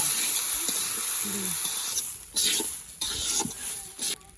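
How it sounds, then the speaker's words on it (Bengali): Raw rice grains fry in a pan for biryani, a soft close sizzle with a few short louder bursts of stirring and scraping near the end. "চালগুলো চালগুলো ভালো করে ভেজে নেবো।"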